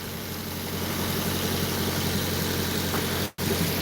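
A Nissan 240SX with a swapped SR20DET turbo engine idles steadily, a close, even rumble with a brief cut-out near the end before the idle resumes.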